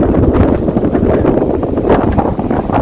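Strong, cold seaside wind at Seonyudo beach, Gunsan, South Korea, buffets the microphone in a steady, gusty roar with low rumbling and rustling, continuous and loud throughout.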